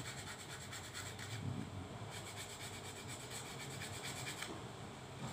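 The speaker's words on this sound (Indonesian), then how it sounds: "langkah selanjutnya kita amplas, kita rapikan" Steady rasping scratch of sandpaper rubbing on a handmade wooden fishing lure, rhythmic back-and-forth strokes, quiet and close.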